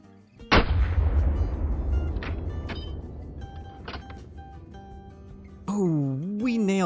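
A single loud rifle shot while hunting a leucistic blackbuck outdoors, a sharp crack with a long decaying rumble, followed by faint clicks and then a sweeping whine near the end.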